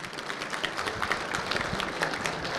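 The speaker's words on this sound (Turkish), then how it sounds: "güçlü bir alkış" Strong crowd applause at a gathering for announced scholarship donations, dense continuous clapping close and steady throughout.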